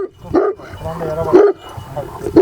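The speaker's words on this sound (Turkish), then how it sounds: "Onlar bölgeye has çoban köpekleri." A large Black Sea shepherd dog barks in deep, loud woofs, three or four spaced barks close by, with some whining or growling tones between them.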